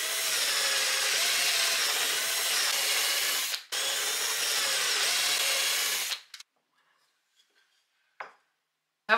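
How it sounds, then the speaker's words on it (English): A power drill bores pocket holes into wood for a side table, running loud and steady for about six seconds with a brief break midway, then stopping into near silence with a couple of faint knocks. "Let's do these pocket holes."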